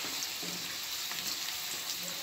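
Jackfruit curry with onions frying in a pan, a soft, steady, even sizzle with no talk.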